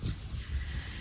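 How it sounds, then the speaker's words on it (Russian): A gas burner is opened and releases a short, close burst of hissing gas that fades to a softer steady hiss within about a second. "Газовую горелку, включаем газ"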